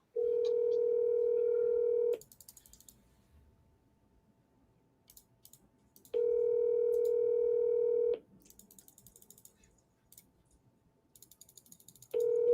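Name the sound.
phone call ringing, not answered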